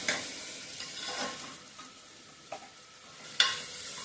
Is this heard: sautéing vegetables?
yes